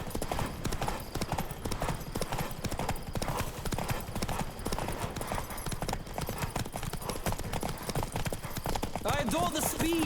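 A horse gallops at full speed during a race in The Witcher 3 on Xbox, fast driving hoofbeats loud and continuous, with a voice talking over them and a brief whinny near the end.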